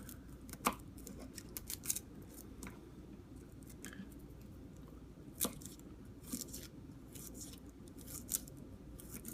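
An Opinel No. 7 folding knife dices food into very thin slices, giving a few faint, sharp cutting clicks spread across a quiet stretch with no speech.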